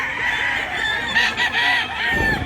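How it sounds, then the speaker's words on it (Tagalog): Roosters crow amid clucking hens at a busy morning chicken market in Mantalungon, Cebu, with several overlapping calls close by over a dense crowd-like background. "Dami na manok idol."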